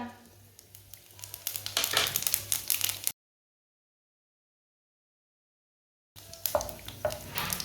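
Whole cumin seeds sizzle in hot ghee in a pan, a crackling fry with a spoon scraping and stirring. It cuts to silence partway through, then the sizzle returns.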